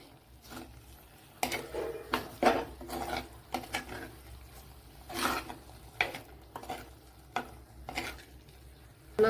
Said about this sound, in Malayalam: നല്ലതുപോലെ വഴറ്റി തന്നെ എടുക്കണം.